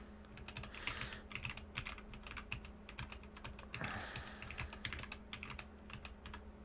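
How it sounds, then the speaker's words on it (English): Someone mashes a computer keyboard at random, a quick irregular clatter of key presses, close and fairly quiet, with no voice. "I'm literally just jamming on my keyboard"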